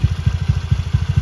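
A bored-up Honda Beat 120cc scooter engine idles close by, giving a steady, even low putter with regular rapid pulses and no other sounds.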